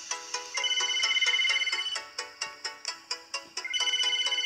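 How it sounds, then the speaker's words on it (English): A phone ringtone in the Roblox Pizza Tycoon game trills in a steady, repeating electronic pattern of quick pulses, loud and close with no talk over it. "phone ringing"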